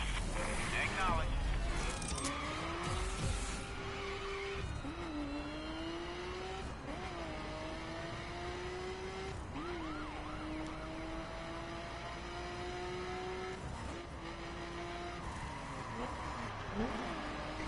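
A police car chase plays out in a video game, with engines revving and sweeping up and down in pitch over a continuous wash of game noise and sirens, skids punctuating the run.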